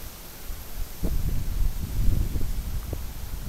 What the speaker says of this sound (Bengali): আরে বাবা রে বাবা, কি বাতাস